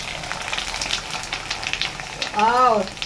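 Food is dropped into hot oil and fries with a steady crackling sizzle that stays close and fairly loud, and a brief whistling tone rises near the end.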